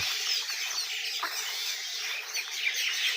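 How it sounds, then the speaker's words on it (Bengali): A large flock of birds calls at dusk on a wide river sandbank, a dense, continuous chorus of high chirps and twitters heard from a moderate distance. "সমস্ত পাখি এখানে আসতেছে দেখেন"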